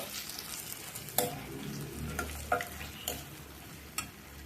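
Masala and tomatoes sizzle steadily in hot oil while a spoon stirs and scrapes the pan every second or so, close up.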